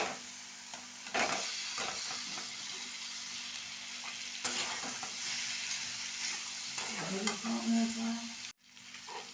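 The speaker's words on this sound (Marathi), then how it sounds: "मी गॅस कमी करते मी मिक्स करते आणि आता ना याच्यात मी हा आपला पास्ता टाकते" Pasta being stirred into a spiced onion mixture in a pan over lowered gas, with steady sizzling and scraping strokes of a spoon, close and continuous.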